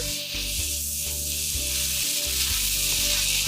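Mushrooms heating in a pan with mentsuyu and mirin, sizzling loudly and steadily up close, with a few faint stirring scrapes.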